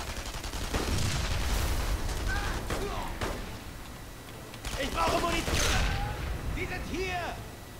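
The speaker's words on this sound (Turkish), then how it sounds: "Bomba atıyorlar durmadan." Bombs exploding and bursts of gunfire in the WWII shooter game Enemy Front, heavy repeated blasts and crackling shots filling the whole stretch loudly, with a couple of strong booms midway and near the end.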